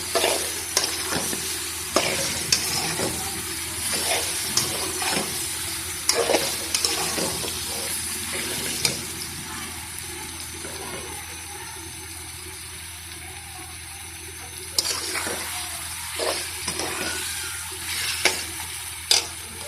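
Biryani ingredients are stir-fried in a pot, giving a steady sizzle broken by repeated scraping and clattering stirs throughout.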